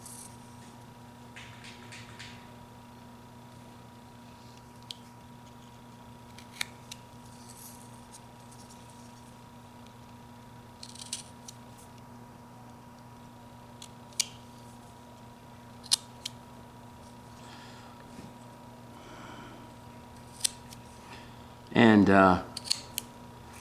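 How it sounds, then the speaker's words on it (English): A whittling knife cuts eyes into a small wooden carving for a Valentine's gift, with faint scattered scrapes and then a short, close, rasping burst of cutting near the end, under occasional quiet speech. "Let's go ahead and just cut our eyes like this."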